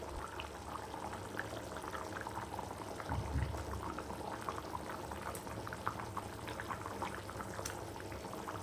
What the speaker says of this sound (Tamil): இந்த மாதிரி நல்லா கொதி வரும்போது